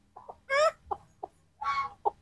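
A Gà Tre Tân Châu chicken, a Vietnamese ornamental bantam breed, gives a quick series of close clucks and two longer squawking calls in a short uneven burst.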